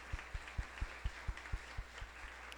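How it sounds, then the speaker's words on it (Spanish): Scattered applause with a steady rhythm of about ten distinct claps at moderate distance, heard alone at a conference session marking the international day of victims of enforced disappearance. "un aplauso para este ejercicio"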